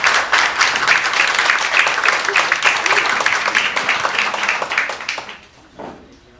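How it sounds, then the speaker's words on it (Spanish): A seminar audience gives a loud, lively round of applause to welcome two speakers. Closely packed clapping stays strong for several seconds, then thins and fades toward the end. "Les damos un fuerte aplauso para recibirlas."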